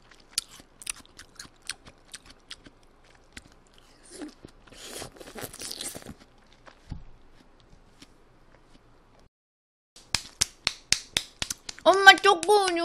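Crisp close-up bites and wet crunchy chewing of watermelon during a summer mukbang, scattered crunches then a quick run of sharp bites, with a brief voice near the end.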